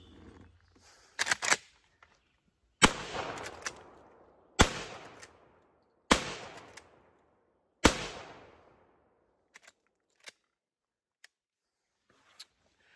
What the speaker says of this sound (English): I guess the only thing left to do is to shoot it.